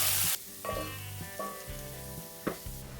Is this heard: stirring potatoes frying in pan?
yes